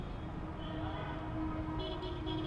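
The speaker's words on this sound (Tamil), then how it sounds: "பாருங்கள், ட்ரெயின் சவுண்ட் கேட்குதா?" A train rumbles past continuously in Bangalore, a dense low roar with a rattling metallic texture and faint high whining tones, steady and fairly close.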